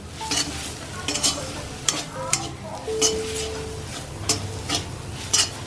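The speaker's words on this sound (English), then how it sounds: "try to make sure that the masalas are properly fried" Masalas frying in oil in a pan, a steady sizzle under repeated stirring scrapes and occasional clinks of a utensil against the pot.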